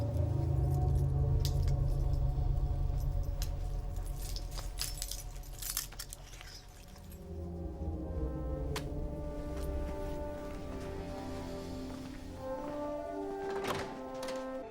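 Keys jangle in a film scene from Night at the Museum, a jumbled metallic clatter with scattered sharp clinks and thunks over a steady low musical score, loudest in the first half and fading back.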